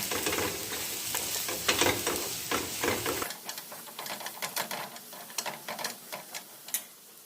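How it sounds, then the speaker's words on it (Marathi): Peanuts fry in hot oil in a pan while being stirred, a steady sizzle with scraping and rattling stirs, louder at first and then quieter with distinct clicking strokes. "शेंगदाणे चांगलं तेलामध्ये परतून घेते"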